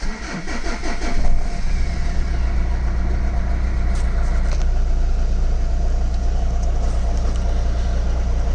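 A high-mileage 2001 Chrysler Voyager with the 2.5 CRD diesel engine cranks briefly and fires up, then settles into a steady, loud, close idle that continues unbroken.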